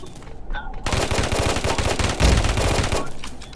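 Rapid automatic gunfire in the shooter game Afterpulse erupts after a brief quiet moment and runs as a dense, loud stream of shots, with a slightly heavier burst partway through.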